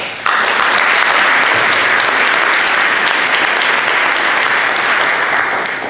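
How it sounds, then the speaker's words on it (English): A conference audience applauds steadily, a dense wash of clapping that starts abruptly and holds at full strength for several seconds without voices. "let's give the organizers a great applause."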